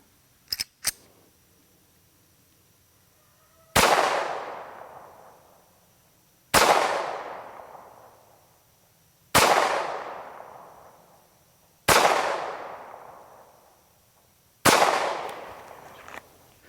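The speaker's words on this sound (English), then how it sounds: "We're shooting all the different bullet weights and a couple different brands, but we're doing everything at 7 yards" SAR 2000 pistol fired five times at a 7-yard outdoor range during accuracy testing, each shot a loud sharp crack with a ringing decay, spaced about three seconds apart, after a couple of faint clicks.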